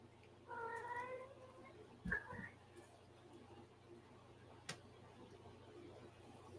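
Cats fight indoors: one drawn-out, wavering meow-growl, then a sharp sudden yowl and a few clicks over a low steady hum, fairly close.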